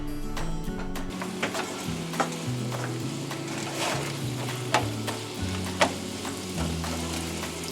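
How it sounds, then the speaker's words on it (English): Mushrooms and onions sauté in a pan with a steady, close sizzle, and occasional sharp clicks and taps of a utensil against the pan punctuate the crackle. "To that, we're going to add our mushrooms and onions. Let that saute up for about 5 or 7 minutes."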